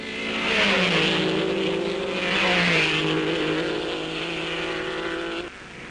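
1958 Grand Prix racing cars, including Ferraris, roar past one after another, engine notes rising and falling as each car sweeps by close, loud and alone before dropping off abruptly.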